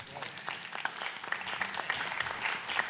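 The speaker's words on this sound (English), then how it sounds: "I appreciate the applause" Audience applause during a talk at the Lincoln Theatre, a lively crowd clapping with a few sharp individual claps standing out, at moderate level and fairly close.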